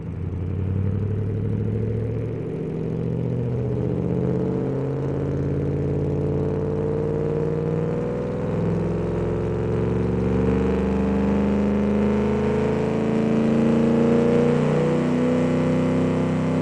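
A deep, rumbling V8 engine of a 1974 Pontiac Trans Am replica in a video game drones continuously, its pitch rising and falling as it revs, steady and loud with no voices.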